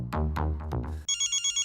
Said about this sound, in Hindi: देखना अभी फोन भी आएगा